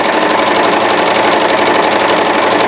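A Janome CoverPro 3000 coverstitch machine chains off at high speed. It gives a loud, close, continuous rapid mechanical whir and clatter with an even, fast stitching pulse and no voices.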